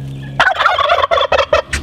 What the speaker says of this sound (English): As you can hear, we have turkeys with us.